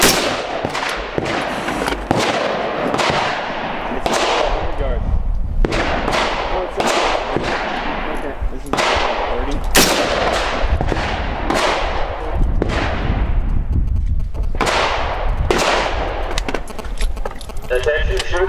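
Gunfire at an outdoor shooting range: a steady series of loud, sharp reports, some close and some from other lanes, arriving at irregular intervals, with voices faintly underneath.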